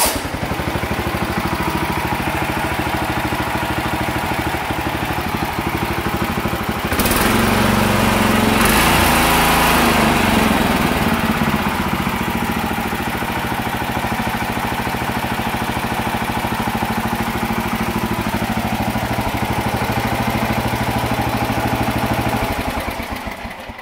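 A Sears Suburban garden tractor engine cranks and catches, then runs steadily at a loud, close, high-pitched idle, like a small lawn-mower engine, with a brief surge in the middle.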